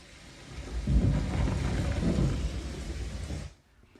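A storm roars in with heavy rolling thunder over steady rain, loud and close for several seconds, then cuts off abruptly into near silence.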